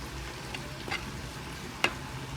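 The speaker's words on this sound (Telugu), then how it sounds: "లైట్గా ఫ్రై చేస్తాను" Carrots frying lightly in a pan give a soft, steady sizzle with faint stirring clicks and one small pop, quiet and close, with no talk.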